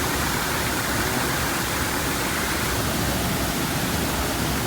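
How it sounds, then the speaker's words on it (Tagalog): Rushing water pours steadily down a channel, a dense, constant broadband roar close by with no voices. "So yung mga naririnig nyo ngayon mga kababayan, yung sinasabi kanina na dumadaan yung tubig."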